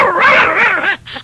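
A voice imitates a little dog, a single close, loud, high yapping whine that wavers in pitch and breaks off into a short yip at the end, with no other talk.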